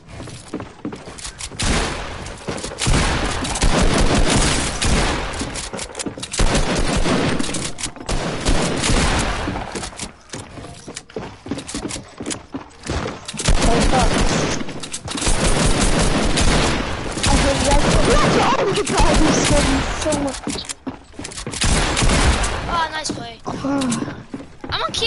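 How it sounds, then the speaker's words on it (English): Repeated bursts of gunfire from a gun in the video game Fortnite, loud and dense, running in sustained volleys through most of the stretch with brief gaps, mixed with game effects and some talk. "Shot my gun."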